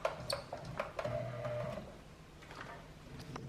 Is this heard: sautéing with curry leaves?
no